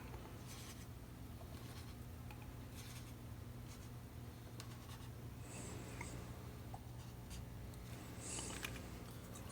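Pen or pencil writes attribute scores on paper during a tabletop character-creation session, a quiet, close scratching in short bursts with brief pauses, over a faint steady background hum.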